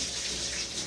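Water streams steadily from a tap while cooking spicy Jaffna-style squid curry, a continuous close splashing hiss with no talk.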